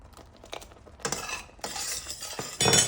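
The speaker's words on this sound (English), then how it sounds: "And now we stir. Those are going to get nice and soft." Strawberries softening in a saucepan are stirred with a spoon, giving a run of scraping, clinking strokes against the pan that come in bursts, with a louder, denser stretch at the end and no talking.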